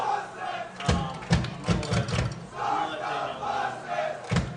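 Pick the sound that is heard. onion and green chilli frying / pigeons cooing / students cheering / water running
students cheering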